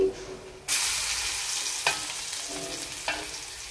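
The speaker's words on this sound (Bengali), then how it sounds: "এখন আমি পেঁয়াজ দিয়া দিতেছি" Onions dropped into hot oil while cooking chicken curry: after a quiet start, a sudden loud sizzle bursts up and holds steady, with two sharper stirring scrapes later on and no voices.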